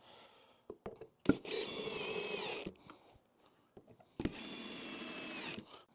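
A cordless drill set to torque 10 drives screws into a stool in two sustained whining bursts, each a couple of seconds long, with clicks and handling clatter between them, close by.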